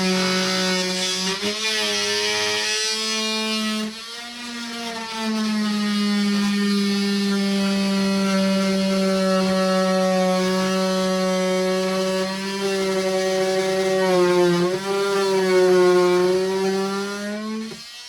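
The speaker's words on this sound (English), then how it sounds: "you're gonna take your multi-tool and you're gonna cut it out" An oscillating multi-tool cuts a patch out of sheetrock with a loud, steady buzzing drone that holds for the whole stretch, shifting slightly in pitch as the blade works.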